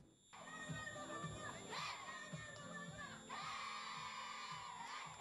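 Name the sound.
schoolchildren shouting with joy at reading contest final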